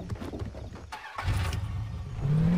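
A car engine in the video game Far Cry 3 revs up after a brief dip, growing louder with a rising engine whine toward the end, close and steady, with no talk over it.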